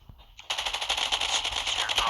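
Automatic gunfire in the Call of Duty Mobile video game, a dense rattling burst that starts abruptly and keeps firing loudly.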